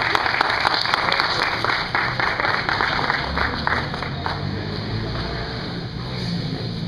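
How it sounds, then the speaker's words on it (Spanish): An audience applauds a poet at a poetry reading, a loud, dense, steady burst of clapping lasting throughout. "Un aplauso, Danilo, por favor."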